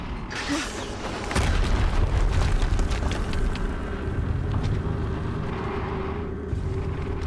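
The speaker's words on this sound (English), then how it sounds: "Another explosion." A deep rumbling explosion booms in the video game Horizon Zero Dawn, followed by sustained heavy mechanical creaking and grinding that fades gradually over several seconds, loud and without speech.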